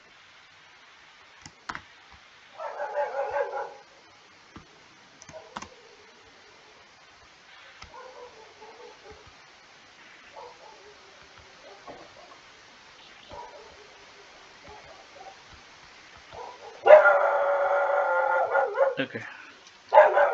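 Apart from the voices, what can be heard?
dogs barking at night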